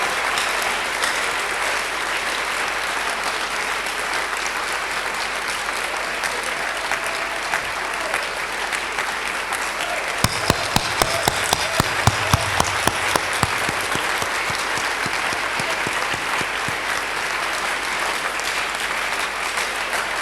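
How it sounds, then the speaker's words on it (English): A large audience claps steadily and at length for the 175th anniversary celebration of PCE Akropong in Akuapem, with a few sharper, closer claps partway through the even wash of applause. "Let's keep clapping. We are clapping for 60 seconds."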